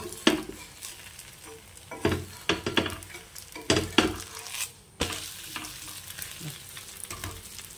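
Jackfruit dosa frying in sesame oil on a pan, a steady sizzle broken by repeated scraping and stirring knocks from a spatula, close and fairly quiet, with no talking.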